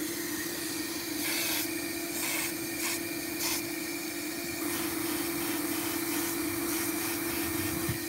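An airless paint sprayer sprays paint onto an iron fence, giving a steady close hiss with a constant motor drone underneath, the hiss swelling in brief bursts as the trigger is squeezed harder.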